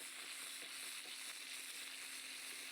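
Butter for a smoked steak au poivre sizzles and foams in a hot pan with herbs, a steady soft crackling hiss with faint stirring, quiet and continuous with no talk.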